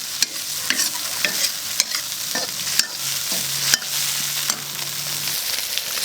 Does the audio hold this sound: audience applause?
no